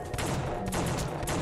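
Dense video game gunfire in The Suffering, a rapid continuous fusillade of loud overlapping shots filling the whole moment with no pauses.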